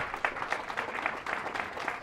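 Round of applause from the audience at a recreation center's 25th anniversary ceremony, steady rapid clapping, fairly faint and distant, with no talk over it.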